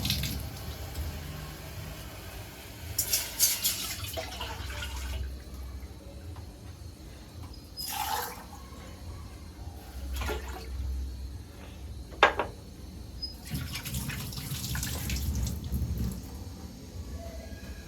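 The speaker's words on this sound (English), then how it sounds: "We put here around 1 cup of water for ugali." Water poured into a cooking pot for ugali, with splashing bursts and trickles coming and going between quieter gaps, close and fairly soft, no talking.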